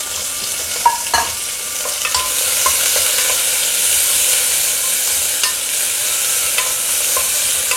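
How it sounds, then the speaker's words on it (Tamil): About fifteen small onions, cut into long slices, sauté with fennel in a pan for vegetable white kurma. A loud, steady sizzle runs throughout, broken by a few sharp clinks of stirring, with no voices. "வெங்காயம் நல்லா வதக்கிக்கோங்க."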